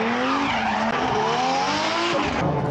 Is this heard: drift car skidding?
yes